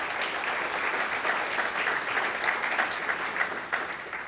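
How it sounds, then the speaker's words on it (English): A conference audience applauds sponsors in a steady, dense wash of clapping that holds at an even level throughout, with no voices breaking through. "Let's have another round of applause for our sponsors."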